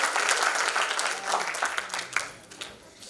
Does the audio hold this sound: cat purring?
no